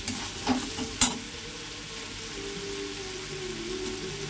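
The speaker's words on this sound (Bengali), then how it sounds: "এবার ভাজা সবজিগুলো দিয়ে দেবো।" Fried vegetables tipped into a pan of hot spice masala seasoned with garam masala powder, giving a steady sizzle with a couple of sharp stirring clatters early on, close and continuous.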